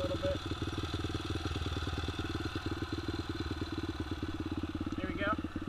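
A motorcycle engine idles close by in a steady, rapid, even throb that runs throughout, loud and continuous, with a voice talking over it on a ride in Murfreesboro, Tennessee.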